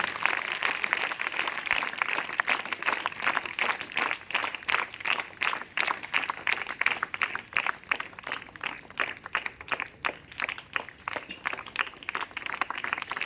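Sustained applause from a crowd at a village ceremony welcoming a guest, many dense overlapping claps that continue steadily for the whole stretch with no talk over them.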